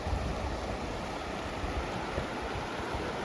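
Strongly flowing water near Avalanche in Ooty, a dense, steady broadband rush that fills the whole clip without pause, heard close, with possible wind noise on the microphone.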